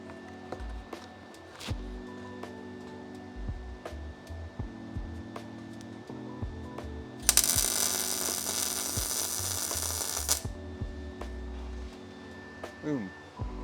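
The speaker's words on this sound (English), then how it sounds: "The welder is really well adjusted right now." A welder lays a bead during rust repair on a Honda Fit, first as short crackling bursts and clicks, then as a loud continuous sizzling hiss lasting about three seconds before dropping back to sparse ticks.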